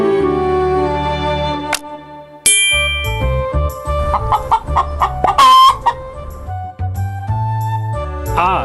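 Cartoonish chicken clucks and a rooster-like crow mix with bright chimes and dings in the Food Quest video game, loud and close, in quick, bouncy bursts with no talk.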